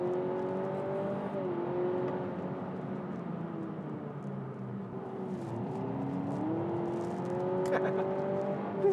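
Synthetic engine note piped into the cabin of a 2023 Honda Civic e:HEV hybrid, a steady droning hum with gliding pitch that rises and falls as if revving, heard from inside the car at moderate level.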